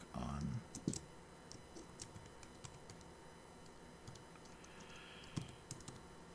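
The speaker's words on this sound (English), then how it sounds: "This keyboard is hard to type on as well." Clicky keys of a computer keyboard being typed on in short irregular bursts, close and fairly faint, with a louder thump near the start and light room noise throughout.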